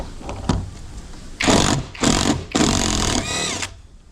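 A hex socket wrench loosens a nut on a car roof rack, giving several bursts of harsh metallic ratcheting and grinding of varying length, close and fairly loud, with no talking.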